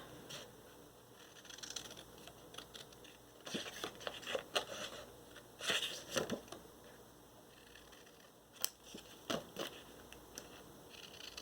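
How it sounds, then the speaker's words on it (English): Scissors snip through paper to cut out leaf shapes, a quiet scattering of small crisp cuts and rustles in bursts, close up, with no talking. "take your scissors and you're just going to cut it out"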